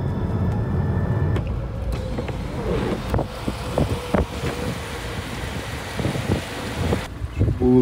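Strong gusting wind in Iceland, near freezing, buffets the microphone with a loud, continuous broadband roar and sporadic low thumps from start to finish.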